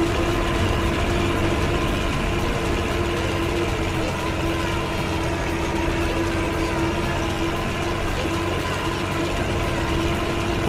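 A Kartar 4000 combine harvester engine in Farming Simulator 22 hums at a steady, continuous drone with a fixed tonal whine, loud and unchanging for the whole stretch.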